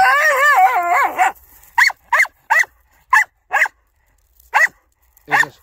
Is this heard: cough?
no